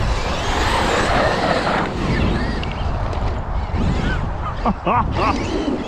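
A Traxxas XRT RC truck runs flat out at full power, its motor whine loud and steady for the whole stretch, with brief high tonal sweeps and a voice talking over it near the end.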